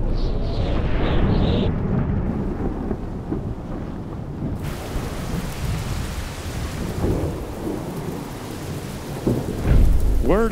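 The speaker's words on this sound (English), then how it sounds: "The rain is starting to come down." Heavy rain pours over the Unbound Gravel race course while deep rolls of thunder rumble close by, a steady hiss of rain on surfaces under the booming, with a sharp crack near the end.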